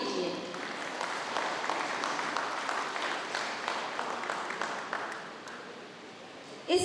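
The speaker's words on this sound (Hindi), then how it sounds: "तो मैं यही चाहूंगी एक बार जोरदार तालियां" An audience at a Dr. Ambedkar 133rd anniversary event claps steadily for several seconds, moderately loud, then tapers off near the end.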